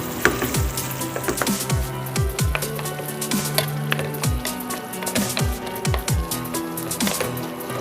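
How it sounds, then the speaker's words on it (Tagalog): Macaroni pasta with cauliflower is stirred in a pan, with repeated scraping strokes, soft squishes and a faint sizzle in a steady rhythm, close and fairly loud with no talk. "Haluin natin."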